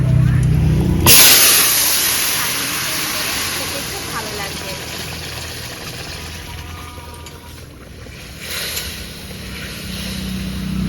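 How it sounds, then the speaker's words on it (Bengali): Fish broth poured into a hot pan after a spice tempering hits with a sudden loud sizzling hiss that slowly fades into a steady bubbling simmer, with a second flare of sizzle later. "এবার রাঁধুনি ফোড়ন দেব এবার ঝোল ঢেলে দেবো"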